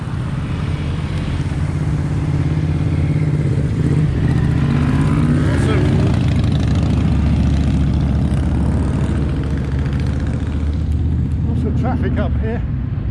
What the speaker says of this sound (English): Traffic up here, lots of motorbikes, lots of cyclists, lots of cars